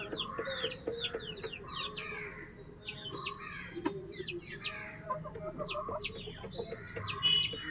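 Free-range native chickens cluck and chirp steadily as they peck at tulsi leaves, many overlapping calls near and far in a busy outdoor flock with no talking.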